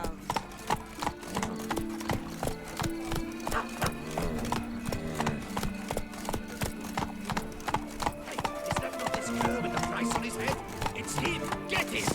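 Horse hooves clip-clopping in a steady galloping rhythm in The Witcher 3 (Blood and Wine DLC), loud and continuous throughout with a whinny and game music underneath.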